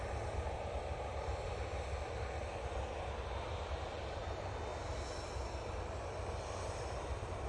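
An Etihad airliner arriving at Manchester Airport gives a continuous, distant, even jet rumble, fairly faint and unchanging throughout.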